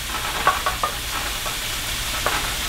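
Onions fry undisturbed in a pan, giving a soft, steady sizzle and hiss with a few faint pops and crackles, quiet and close, with no talking.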